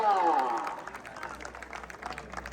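Crowd clapping at a lively public gathering in Khanapur, scattered hand claps rising behind a voice that calls out briefly at the start, then continuing as moderate, uneven applause.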